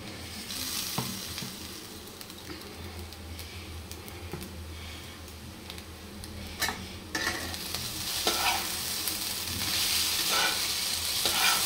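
Chow mein tossed in a pan with chili sauce, a steady sizzle with scraping and stirring strokes throughout, getting busier and brighter toward the end.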